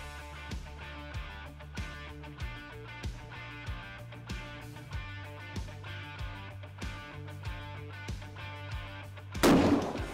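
A Traditions NitroFire muzzleloader rifle fires one loud, sharp shot near the end during a deer hunt, after a long stretch of steady rhythmic music.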